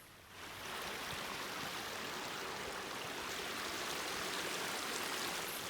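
A spring-fed creek rushes steadily nearby, a continuous broadband babble of flowing water that swells in after a brief quieter moment and stays even throughout.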